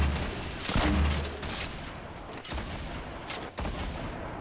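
Sustained rapid gunfire from a minigun in the battle royale game Fortnite, a dense continuous burst that runs almost the whole time with brief dips, loud and close.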